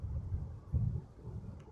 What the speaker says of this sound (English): Sorry if you guys can't hear me because of the wind